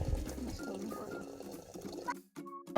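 Hot water poured into a pot for Nepali millet dhido, a steady liquid pour running for about two seconds before a short pause and a brief final splash, close by.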